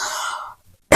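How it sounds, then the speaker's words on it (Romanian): A single sharp cough after a stretch of hoarse breathy sound, close and loud, cutting off abruptly at the end of a short pause, from a speaker whose voice is tired from talking all day. "Ce scuze pentru tuse"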